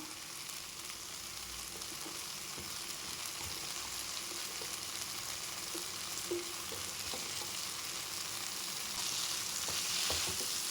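Potatoes frying in oil with tomato and curry leaves give a steady, even sizzle throughout, close and moderately loud, with occasional soft stirring taps and no talk.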